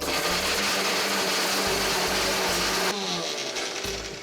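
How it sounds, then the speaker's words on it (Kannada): A kitchen mixer grinder runs at full speed blending ingredients, a loud close whirring motor roar with grinding rattle that shifts pitch about three seconds in and keeps going without speech. "ಇದನ್ನೆಲ್ಲ ಮಿಕ್ಸರ್ಗೆ ಹಾಕೊಂಡು"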